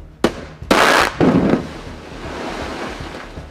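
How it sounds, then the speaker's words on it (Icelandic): Construction blasting for avalanche defences in Neskaupstaður, Iceland: three sharp, loud explosive bursts in quick succession, the middle one longest, fading into a low rumbling outdoor background. "Íbúar í Neskaupstað búa við sprengi drunur næstum misserin en framkvæmdir við loka áfanga snjóflóðavarna eru hafnar."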